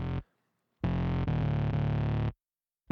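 A distorted synth bass part sounds in two separate phrases, each note at the same loudness, sustained and even, with silent gaps between the phrases and another note beginning at the end.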